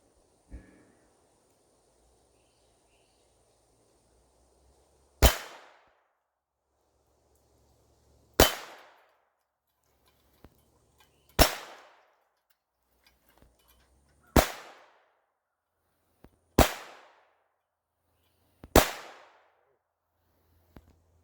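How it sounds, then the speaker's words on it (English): Six sharp pistol shots ring out on steel targets at an outdoor gun range, spaced a few seconds apart, each loud crack followed by a brief metallic ring-off, with near silence between. "Let's shoot some steel."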